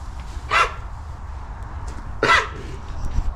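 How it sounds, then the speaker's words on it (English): A Hereford calf coughs twice, a few seconds apart, at moderate distance over a steady background of farm ambience. "Hereford's coughing."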